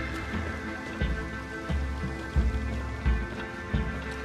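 Rain falling in Red Dead Redemption 2, a steady close patter with irregular heavier drops and low thumps under a constant background hum, and no talking.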